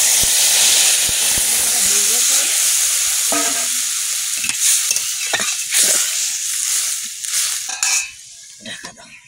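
Water hits a hot frying pan while spinach and taro are cooked, bursting into a loud, steady sizzle and hiss with stirring scrapes and clinks that gradually die down over several seconds.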